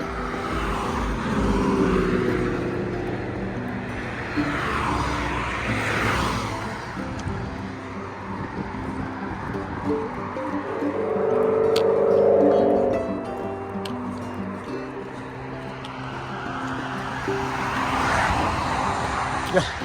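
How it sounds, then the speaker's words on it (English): Cars sweep past one after another on a busy road with two lanes heading out of town and one coming in, each swelling close and fading, while a person talks over the steady traffic. "We got 2 lanes of traffic going out of town and 1 lane going in."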